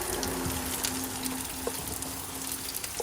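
Onions frying in a pan for chicken curry, a steady soft crackling sizzle with faint scattered pops, close and continuous with no talk.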